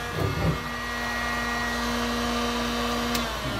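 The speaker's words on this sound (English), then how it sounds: "So this is the heated chisel and how one of the ways it could be used in restoration" Heated chisel in use on an old car, lifting tar and heavy paint: a steady, loud whirring drone with a constant hum, continuous throughout, with brief low rustles at the start.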